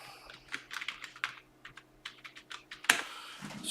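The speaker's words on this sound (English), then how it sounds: "I will just log into the broker and do a reload here so you can type in the password." A password is typed on a computer keyboard in quick, uneven bursts of crisp, close key clicks. A louder clack near the end may be the enter key or a spacebar, and nobody speaks.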